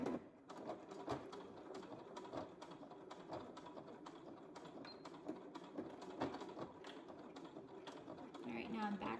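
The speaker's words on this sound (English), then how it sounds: "now I'm back stitching here" A sewing machine runs back and forth over fabric, stitching forward and then reversing to back stitch a snap placket, a steady rapid mechanical rattle with brief pauses and changes in pace.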